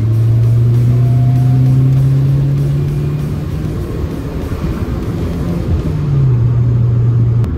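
A Fiat Uno Turbo hot hatch engine drones loudly from inside the car while driving, a steady low rumble with a sustained tone that drops briefly as the revs shift, then settles again.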